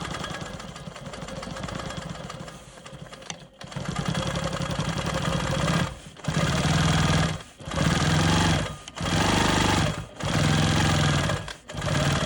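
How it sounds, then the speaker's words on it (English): A Janome sewing machine stitches a quilt block, running in steady mechanical bursts of rapid needle clatter broken by short pauses between runs, loud and close, with no talking. "I'm going to go ahead and stitch up this line"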